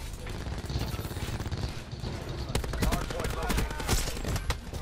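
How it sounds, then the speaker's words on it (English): Rapid bursts of automatic gunfire and shots from several directions in a Call of Duty Black Ops 4 Hardpoint match, dense, loud and continuous, with a player talking briefly over the battle. "I'm getting shot from all directions."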